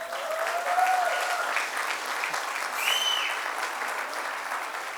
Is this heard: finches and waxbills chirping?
no